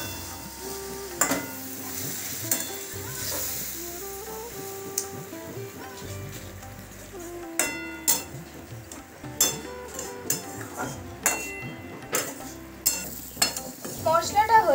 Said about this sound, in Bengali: সামান্য একটু জল দিয়ে এবার মশলাটা নাড়াচাড়া করে নেব